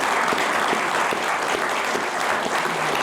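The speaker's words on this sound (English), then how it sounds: "Give a huge round of applause please for Dana." Audience applause at the end of an on-stage conversation at a cultural centre, with loud, dense clapping from a large crowd that stays steady throughout.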